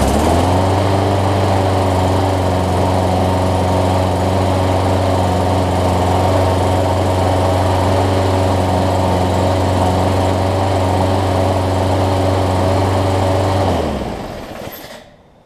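A Briggs & Stratton OHV lawn mower engine, after a head gasket replacement, runs loud and steady at close range with a constant droning hum, then cuts off and winds down near the end.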